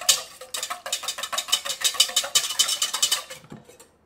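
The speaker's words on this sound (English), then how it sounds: "I'm just gonna crack my eggs in here and then just whisk them a little" Eggs whisked by hand in a bowl, a rapid run of bright clinking taps of whisk against the bowl, fairly close and steady for about three seconds, then stopping; no talking.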